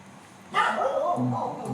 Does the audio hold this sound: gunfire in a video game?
no